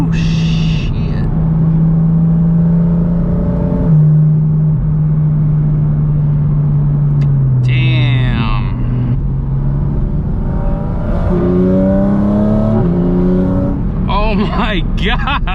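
A 2023 Porsche Cayman GT4 RS engine heard from inside while driving, a loud sustained drone rising and falling through revs and downshifts with sharp blips, and people talk over it.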